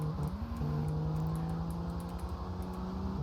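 Engine of a car driven in the video game GTA Vice City, a steady droning hum with sustained tonal whine shifting pitch slightly as it holds speed, loud and continuous with no talking.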